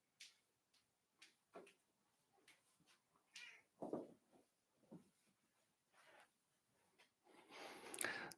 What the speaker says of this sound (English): I have a cat at my door, so I'm just going to open the door for it.